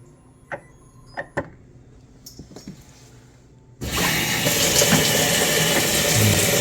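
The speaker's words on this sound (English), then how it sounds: "Now we're going to add water." Water gushes abruptly into a tub after a few scattered knocks and clunks, a steady loud broadband rush from a tap or hose filling the bottom during waterproofing maintenance with RTV sealant.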